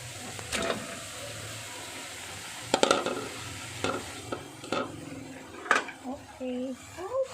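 Pre-boiled meat is added to a cooking pan and stirred, giving a low steady sizzle punctuated by scattered utensil scrapes and clinks, with a voice talking in between.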